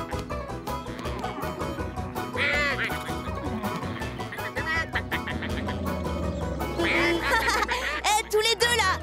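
Cartoon ducks quack repeatedly in a bright, lively farmyard scene from a children's tractor show, the calls mixing with background music and sounding under a French-speaking narrator's voice.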